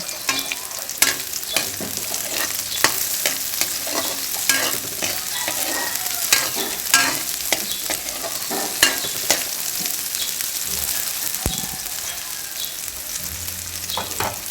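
Onions sautéing in a pot for Filipino chicken arroz caldo, a loud, steady sizzle with constant stirring scrapes and clinks running throughout, no talk.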